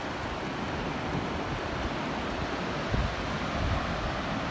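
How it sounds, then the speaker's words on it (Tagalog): Sea waves near Kikugawa Bridge in Japan wash in a continuous broadband roar mixed with wind buffeting the microphone, steady and fairly loud with no distinct breaks. "tunog ng dagat"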